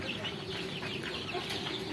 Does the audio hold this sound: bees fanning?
no